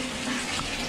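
Water runs steadily from a hotel bathroom tap, a continuous close hiss of flow filling the brief moment with no voices.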